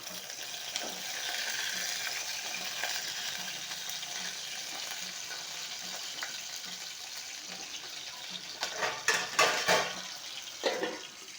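Ginger, cumin, garlic and green chillies frying in hot oil, a steady broadband sizzle running throughout with a few louder bursts of spattering near the end; no voices.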